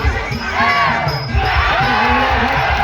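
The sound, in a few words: boxing crowd cheering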